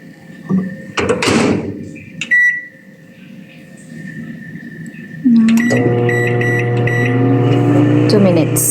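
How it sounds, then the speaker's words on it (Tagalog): A microwave oven cooking a chocolate cake in a cup: door sounds and beeps, then a steady loud hum with a low drone from the running oven, preceded by brief clattering. "Yan, lalagay natin sa microwave."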